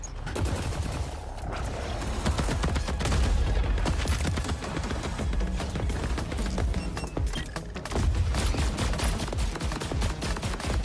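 Gunfire in the video game Borderlands 4 during an assault on an Order outpost, dense continuous bursts of automatic shots and blasts rattling on loudly throughout, with no talk.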